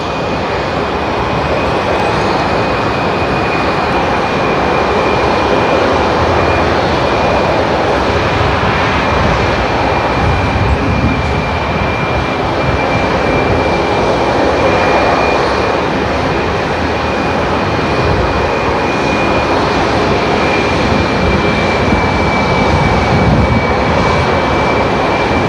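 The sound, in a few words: airliner taking off at Seattle-Tacoma International Airport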